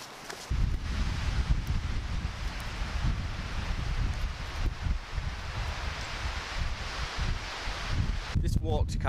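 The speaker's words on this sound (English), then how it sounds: "It's a fairly windy day, kind of enjoying the wind blowing at me." Steady wind gusts buffet the microphone on a wet day walking to Castle Rock in the Sperrins, Northern Ireland, with a broad roaring rush that continues throughout, rising and falling slightly in strength.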